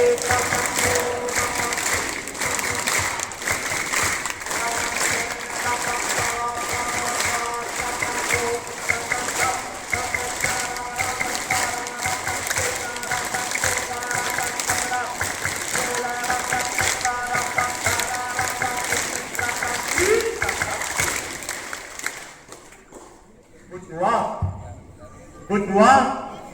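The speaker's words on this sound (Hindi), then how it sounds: "सबकी ताली एक साथ बजेगी" Children clap together in a steady, dense rhythm for about twenty seconds. The clapping is mixed with chanting voices, then gives way to quieter talk near the end.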